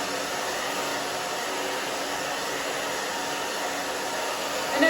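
A hair dryer blows on naturally curly short hair, giving a steady, close airy roar that holds evenly throughout, with a slight bump in loudness just before it ends.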